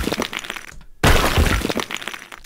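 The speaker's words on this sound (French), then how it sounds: "vous avez la statue qui tombe au sol au ralenti" Slow-motion sound effect of a statue falling to the ground and shattering, a rumbling whoosh, a brief near-silent gap, then a loud crashing burst of breaking debris that crumbles and scatters.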